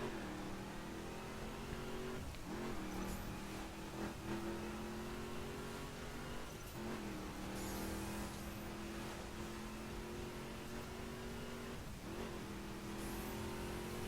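Car in The Crew video game racing at very high speed, around 416 km/h in a slipstream, its engine holding a steady drone with repeated brief dips and shifts as it rushes on, fairly faint and without talk.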